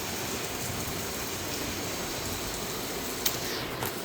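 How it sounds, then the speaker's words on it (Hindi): Heavy rain falls without a break, a dense even hiss of drops striking surfaces, with a couple of sharp brief noises near the end. "बहुत बारिश हो रही है, सुबह से ही बारिश हो रही है।"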